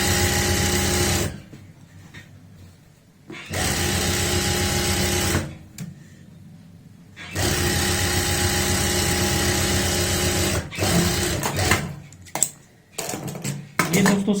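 An electric sewing machine stitches palazzo pants in several long runs separated by pauses, loud and close, with a tailor talking between and over the bursts.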